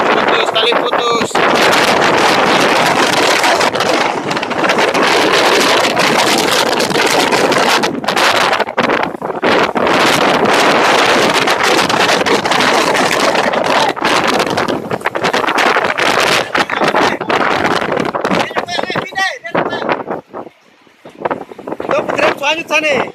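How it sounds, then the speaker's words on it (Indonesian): A storm batters boats at Raja Ampat near the Wesai Hotel, with loud, roaring, gusting wind buffeting the microphone almost continuously; people speak over the din and the roar briefly eases near the end. "Badai telah tiba di Raja Ampat."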